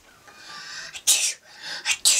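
Two sharp, bright sneezes close to the listener, each preceded by a softer intake of breath, the second following quickly after the first.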